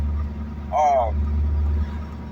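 A car engine fitted with racing motor mounts idles with a steady low rumble, and a brief squeaky sound rises over it near the start.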